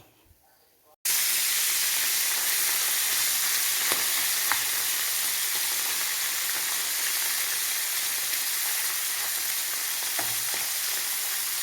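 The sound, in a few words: dried fish frying in hot oil for pickle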